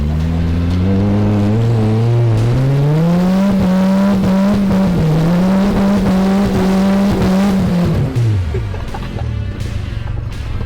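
A loud, close vehicle engine revs and strains under load climbing a rocky hill, pitch climbing and wavering, with clattering and scraping of rock underneath before it drops away near the end.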